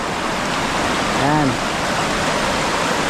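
A small rural creek runs strong after rain, making a loud, steady rush of water that fills the whole clip, while a voice speaks briefly over it.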